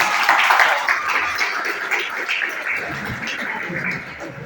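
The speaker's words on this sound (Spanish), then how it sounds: "Un fuerte aplauso para Giancarlo." A classroom of students gives sustained applause for a classmate called to the front during a neurology lesson, a dense patter of clapping that tapers off gradually over several seconds.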